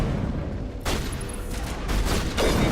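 Enemy soldiers in Mass Effect firing at close range, a rapid sustained burst of gunfire in loud overlapping volleys with no pause.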